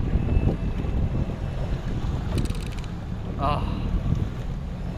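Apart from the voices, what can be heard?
new outboard motor running on boat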